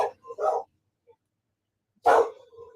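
A dog barks in two short, close bursts, then falls silent for over a second before one more loud bark rings out, with a faint trailing whine after it.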